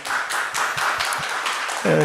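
Scattered applause from a lecture audience thanks a professor after a talk on biblical interpretation, with irregular claps under a steady wash of room noise, ending as a voice begins.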